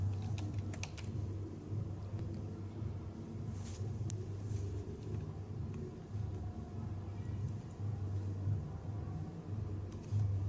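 Keyboard typing while entering a destination city into an online flight search, soft rapid clicks under a steady low rumble, with no speech.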